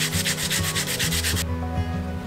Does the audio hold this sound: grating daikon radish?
yes